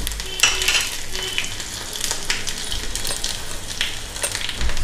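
Dried red chillies and crushed garlic fry in hot oil for a Telugu tempering, giving a steady close sizzle and crackle with a few sharp pops and the occasional scrape of a stirring spoon.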